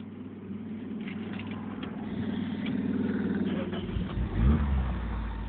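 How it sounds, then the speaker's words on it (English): A Toyota AE86 engine with a new customized 16-valve exhaust rumbles steadily up close, its low drone swelling into a brief rev near the end, with some wind and handling noise around it. "I just put a whole new exhaust on it. It's a 16-valve exhaust."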